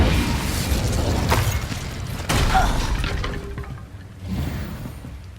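Incendio, a fire spell cast in Hogwarts Legacy, gives a whooshing burst of flame followed by a sharp bang, then a rumbling crackle. A second, quieter flare follows later.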